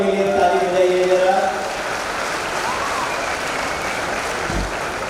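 Crowd clapping for two BSF inspectors general at an Indore tree-planting event with a central minister and the chief minister, following a voice with a tonal hum, then a continuous moderate wash of applause.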